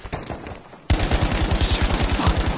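Loud, rapid gunfire from M1 Garand rifles in the Battlefield V video game erupts abruptly after a quieter stretch, with dense repeated shots continuing to the end.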